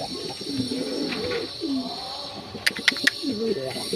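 Pet pigeons at a family home coo in several soft, rounded phrases, close and moderately quiet over a light background hum, with a few sharp clicks near the end.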